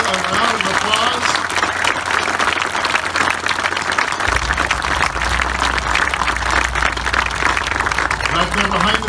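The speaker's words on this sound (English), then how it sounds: "Let's give you a round of applause." An audience applauds at an outdoor World War II monument unveiling in El Reno, with loud, sustained clapping from a large crowd that continues evenly throughout.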